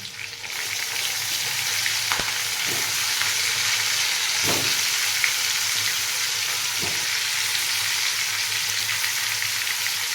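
Brinjals frying in a hot pan with turmeric and curry leaves give a loud, continuous sizzle that fills the whole stretch, with a few brief clinks or stirring knocks.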